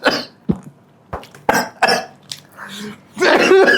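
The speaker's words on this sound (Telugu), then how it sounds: "దగ్గితే నా దాంట్లో దగ్గుతున్నాడు" Close, sharp coughs and throat clearing from someone eating spicy biryani during an eating challenge: several short bursts spaced through the clip, followed by a voice at the end.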